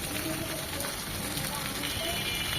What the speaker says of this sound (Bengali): এরপর এইভাবে উঠিয়ে দেখতে হবে মাছটা কতটুকু ভাজা হয়েছে।